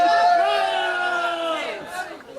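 Backyard deathmatch wrestling crowd reacting with a mixed roar of shouts and voices, sustained and loud for about two seconds before tapering off.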